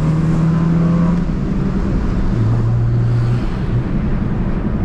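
A car engine revs in second gear, loud and close, with rising and falling whines over a steady rumble and some wind buffeting.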